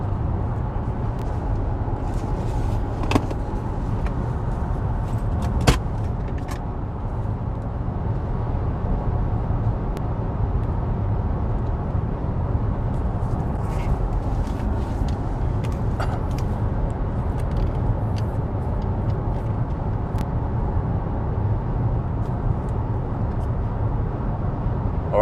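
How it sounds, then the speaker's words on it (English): Cabin noise inside a Lexus RZ 450e electric car cruising at 120 km/h: a constant low road and wind roar, steady for the whole stretch, with a few faint clicks and small knocks and no talking. "we are cruising at 120 kilometers per hour only"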